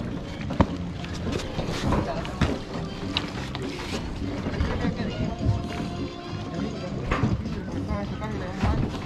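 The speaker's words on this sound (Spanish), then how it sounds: "Ahí van a ir la otra lancha." Outboard motorboat on Lake Güija running steadily on the water, a continuous engine drone with wind buffeting the microphone, while people talk over it.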